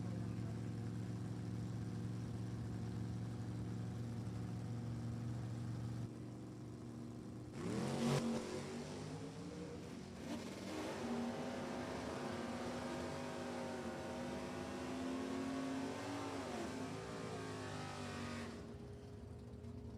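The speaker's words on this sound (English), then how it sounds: "Copo Camaro with the 427 in it. Donnie Carroll in the Firebird." A 427-powered COPO Camaro and a Firebird launch down a drag strip, a loud rising engine roar after a steady idle drone, holding high revs before fading, with no talk.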